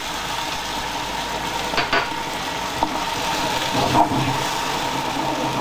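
A squid sauce laced with cognac simmers and evaporates in a pan, giving a steady, close bubbling sizzle with a few brief louder spits and stirs, no voices over it.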